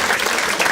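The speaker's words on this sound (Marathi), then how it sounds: "टाळ्या वाजवा एकदा याच्यासाठी." A short, dense burst of audience applause at a Marathi stand-up comedy show, brief and close.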